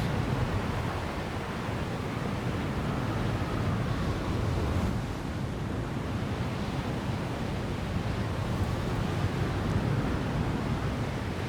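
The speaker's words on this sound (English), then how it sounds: "they add wind as a new mechanic, which can work with me or against me, depending on which way the wind goes" Steady rushing wind blows through the climbing game Jusant, a broad, continuous gusting roar with no voices, holding at an even level throughout.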